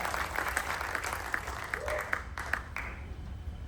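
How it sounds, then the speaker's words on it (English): An audience applauds an orchestra at a matinee show, a broad crowd of clapping with sharper individual claps popping out and a brief voice mixed in, fairly distant and steady throughout. "please just give a round of applause to this incredible orchestra"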